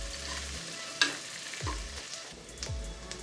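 Onions sautéing in a pan for a coconut milk peas pulao, a soft steady sizzle broken by several scraping stirs and a light clink of a spoon against the pan.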